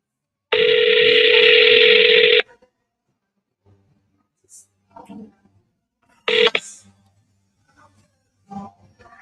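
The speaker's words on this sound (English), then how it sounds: "Let's just pick up the phone." Telephone dialing for a business call: a loud, sustained dial tone runs for about two seconds, followed later by a short tone burst and faint clicks and beeps, with brief quiet gaps between them.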